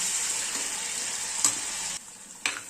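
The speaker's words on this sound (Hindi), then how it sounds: "अब हम इसमें डाल देंगे कटे हुए टमाटर और टमाटर को नरम होने तक अच्छे तरीके से पका लेंगे।" Chopped tomatoes cooking with onions in a pan give a steady hissing sizzle that drops off sharply near the end, with a couple of brief stirring clinks.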